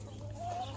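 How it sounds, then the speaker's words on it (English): A backyard hen attempting to crow gives one short, strained call whose pitch rises and wavers, heard close over a steady low hum. "One of the chickens will start crowing."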